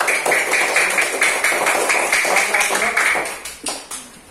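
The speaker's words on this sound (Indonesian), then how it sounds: "beri tepuk tangan untuk kelompok 2 ya" A classroom of students in Indonesia claps for a group, a dense, continuous patter of many hands that thins out near the end.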